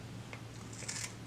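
Scissors snipping through Dollar Tree ribbon for a poinsettia, a quick pair of soft close cuts over quiet room noise.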